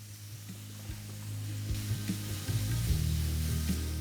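Vegetables seasoned with salt and turmeric are stirred in a hot pan, giving a soft, steady sizzle broken by occasional scrapes of the spoon, close and fairly quiet, with no talking.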